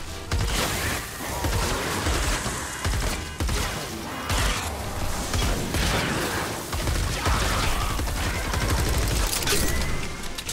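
Rapid gunfire from a weapon in Fortnite Save the World, dense bursts of loud close shots repeating across the whole stretch with short gaps between volleys.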